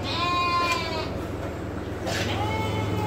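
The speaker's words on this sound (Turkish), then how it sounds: "Burada kuzulu koyunlarım." Ewes with lambs on a Turkish sheep farm bleat in a few drawn-out wavering calls, one near and another a bit farther away, over a low steady hum with no speech.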